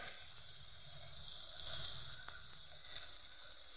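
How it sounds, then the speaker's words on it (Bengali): Potatoes seasoned with turmeric and salt fry in hot oil in a pan, giving a steady close sizzle that swells slightly midway, with no talking. "এখন শুধু আলুটা ভাজবো বলে আলুর মতনই লবণটা দিয়েছি"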